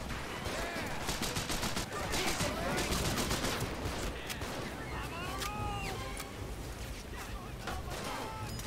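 Rapid bursts of gunfire in Medal of Honor: Pacific Assault at Makin Atoll, dense clusters of sharp cracks that repeat through the stretch amid battle noise, with someone talking over them.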